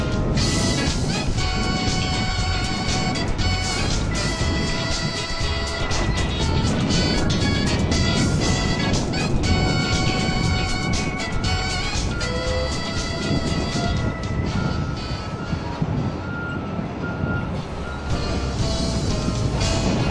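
Hydraulic excavator crawling over blasted rock debris at a quarry workface, a steady loud engine roar with continuous grinding and clanking of tracks over rock throughout, no speech.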